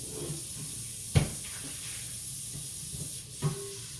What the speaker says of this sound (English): So let me rinse my pot out